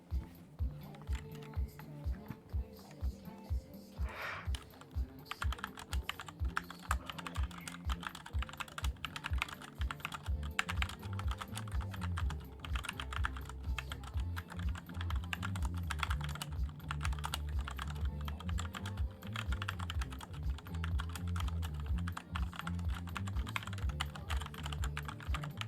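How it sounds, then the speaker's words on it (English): A SteelSeries computer keyboard clatters under fast typing, dense rapid keystrokes close to the microphone, with a brief pause before the typing picks up again and continues without break. "now you guys will actually hear my SteelSeries keyboard"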